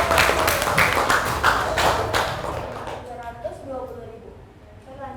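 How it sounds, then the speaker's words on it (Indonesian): Classroom applause, a short burst of clapping from students that quickly dies away into scattered taps and fading voices. "Tepuk tangan dong."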